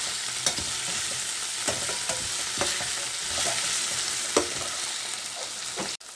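Tomatoes sauté in a pan with a continuous soft sizzle, punctuated every second or so by the clack and scrape of a spoon stirring them, close with no talking.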